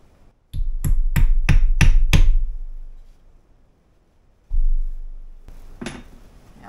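A hammer drives a nail in six quick, loud, evenly spaced strikes, then pauses before a few more heavier knocks and clatter; a tool for sharpening a chainsaw chain is being set up nearby.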